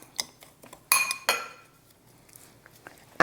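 Salt and jerk seasoning being mixed for steamed fish, a few sharp clinks of a utensil against a dish and bowl, close and clear, with light tapping in between.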